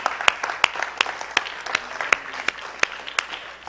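A church congregation applauds loudly for the Lord, a brief burst of sharp claps in a fairly regular rhythm, close and loud, with some crowd noise beneath.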